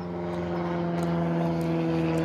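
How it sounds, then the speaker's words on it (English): Small airplane passing low over a yard near a little community airport, a steady droning propeller engine with strong harmonic hum, continuous and fairly loud throughout. "Sorry for the plane going over."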